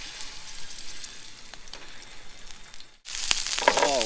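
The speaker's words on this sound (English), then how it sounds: "Oh wow, that is sizzling." Fresh fish fillets seasoned with salt, pepper and barbecue rub sizzle hard in a hot pan, a steady close crackling hiss with popping spatter that briefly cuts out then returns louder and denser.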